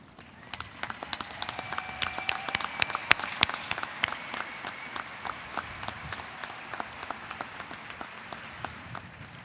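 An audience at a high school commencement ceremony claps for award recipients, a steady patter of many hands in a large hall, moderately loud and continuous.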